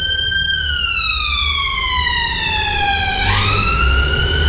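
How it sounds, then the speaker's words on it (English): A loud ambulance siren wails steadily nearby, its falling pitch sweeping down as it passes, then jumping back up, with road traffic rumbling beneath throughout. "An ambulance is going to kick off in a second."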